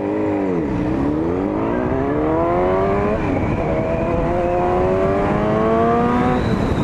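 A motorcycle with an aftermarket exhaust revs repeatedly near the listener on a street, its pitch sweeping up and dropping back in throaty bursts.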